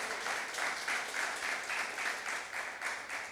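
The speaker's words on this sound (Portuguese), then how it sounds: "Então dá uma salva de palmas para Deus nessa manhã." Congregation applause during a pastors' retreat church service, a full, steady burst of clapping with a gently pulsing rhythm, loud and close, with no voices over it.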